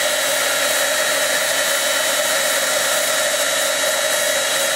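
A heat gun drying ink on a stamped card blows with a loud, steady, close-up roar and hiss that holds unchanged for several seconds, with no other sounds.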